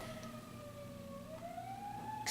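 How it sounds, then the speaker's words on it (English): A distant emergency vehicle siren wails in a town in Alaska, one slowly rising and falling tone, faint and far off above low ambient noise. "there's a siren."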